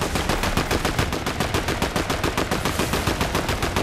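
Rapid automatic gunfire in the Fortnite video game, a loud, close and continuous stream of evenly spaced shots with no talk.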